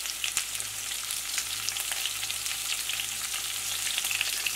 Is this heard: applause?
no